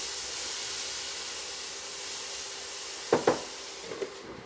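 Leeks cook under a lid in a covered pan, giving a steady, even hiss of steam and sizzle. Two sharp knocks come near the end, then a few softer clinks.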